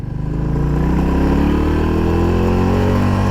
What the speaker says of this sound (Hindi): अब हम टेस्ट करेंगे हर गियर में बाइक की टॉप स्पीड।